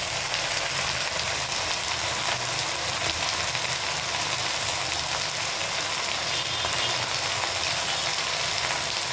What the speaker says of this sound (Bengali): পাট শাকটা কড়াইতে দিয়ে দিয়েছি এটা এখন ভালো করে ভেজে নেব